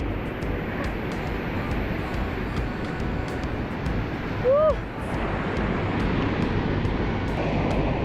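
Constant broadband rushing water from a waterfall at Chapada Indaiá in Brazil's Cerrado fills the scene, steady and loud, with a brief whistle-like squeak cutting through midway.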